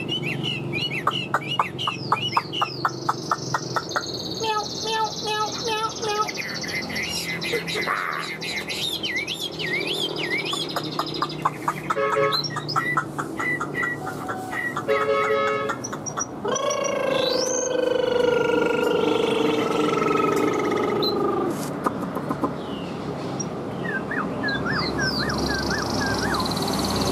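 A caged songbird sings a busy, continuous stream of whistled phrases, trills and chirps, loud and close, with overlapping calls from other birds and no talking.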